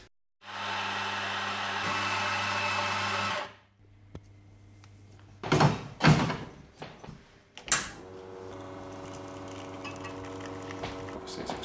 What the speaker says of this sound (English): Obviously it's extracting the coffee there.